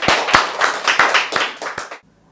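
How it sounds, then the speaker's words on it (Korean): A few people clap in a small audience after a humanities lecture, about seven distinct hand claps in a quick uneven rhythm, close and clear, then abrupt silence. "다시 한번 큰 박수 부탁드립니다"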